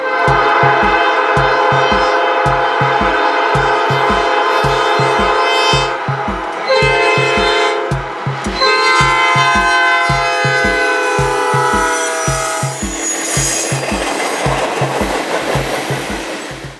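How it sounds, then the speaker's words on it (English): A Norfolk Southern manifest freight train rolls past close by with steady rhythmic clickety-clack of wheels, while its horn blares in long loud blasts. "This northbound actually happened to be Norfolk Southern 154, a manifest train"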